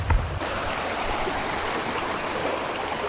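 A river stream flows beside a campsite, a steady, close rushing of water that stays even throughout after a brief low thump at the very start.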